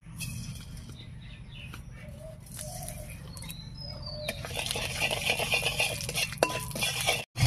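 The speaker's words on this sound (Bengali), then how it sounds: "আলু আর পটল ভাজার পর যে তেলটা রয়ে গেছে তার মধ্যে দিয়ে দেবো 1 চামচ মতো চিনি।" A spoonful of sugar goes into the oil left in a pan after frying potatoes and pointed gourd, giving a quiet continuous sizzle with light clinks of a metal utensil against the pan.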